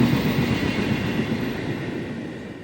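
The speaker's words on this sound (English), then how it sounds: "Hold on, the train." A train rolls past close by with a loud, steady rumble and faint clickety-clack that slowly fades over a few seconds, with no voices.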